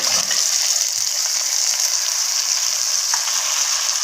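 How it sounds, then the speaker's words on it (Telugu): Tomatoes and potatoes fry in a hot pan for mutton potato curry, giving a loud, steady sizzle with a hiss that carries through the whole moment. Faint clicks and stirring taps sound underneath, and nobody speaks. "ఇప్పుడు నెక్స్ట్ మనం టమోటాలు, బంగాళదుంపలు వేస్తున్నాము"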